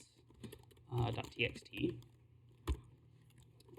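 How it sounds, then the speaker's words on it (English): Computer keyboard keys clatter in short irregular bursts with a few separate clicks, close and fairly quiet, in a lecture on regular expressions, with faint voice present. "So I'm just going to type inside of a file"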